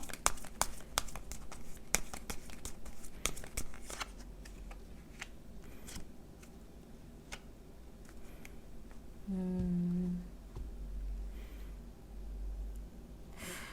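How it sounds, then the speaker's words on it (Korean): Tarot cards are shuffled and drawn, with quick papery riffles and snaps in the first seconds, then soft sparse handling and faint crinkles, close and quiet. "좋은 카드 2장만 더 뽑아볼게요"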